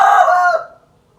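A rooster on a rural Thai homestead gives the end of a single loud, close crow that holds for about half a second and then fades into quiet.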